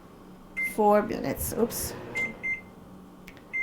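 Short electronic beeps from an oven's timer buttons being pressed in a home kitchen, several quick separate chirps spaced apart, heard alongside someone talking nearby.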